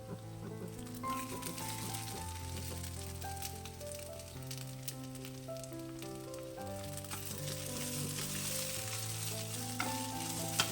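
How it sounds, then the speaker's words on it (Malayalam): Egg roast masala with turmeric powder frying in a pan as it is stirred: a steady, quiet sizzle with occasional scrapes, heard up close while soft tonal music plays underneath. "കുറച്ച് മഞ്ഞൾപ്പൊടിയൂടെ ചേർത്തിട്ട് നന്നായിട്ട് കൂട്ടി ഇളക്കുക."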